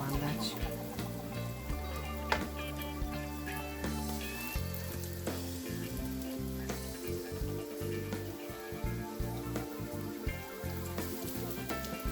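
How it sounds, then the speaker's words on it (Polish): Fish and potato patties sizzle in a frying pan, a soft steady crackle sitting low beneath louder background music that plays throughout. "Już zaczyna skwierczeć."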